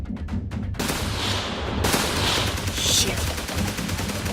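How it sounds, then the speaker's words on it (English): Vehicle-mounted machine gun firing in the military game ArmA 3, rapid bursts of gunfire cracking loud and close, continuing in sustained volleys with a brief shouted exclamation at the start. "They're on their way with a vehicle with a mounted machine gun."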